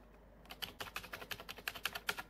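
Rapid clicking of keys on a computer keyboard entering shortcuts, about a dozen crisp, evenly spaced taps heard close up with no talking.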